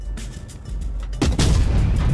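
A Soviet tank cannon fires in a video game: a heavy boom lands about halfway through, followed by a rumbling, rolling tail over the low background of engine drone.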